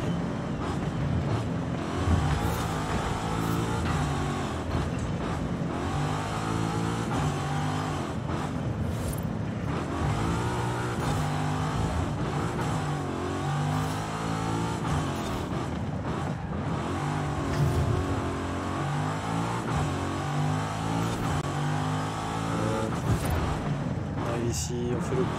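A Chevrolet 150 Utility Sedan engine pulls hard under acceleration, a steady loud droning roar with shifting pitch running throughout, while a person talks over it.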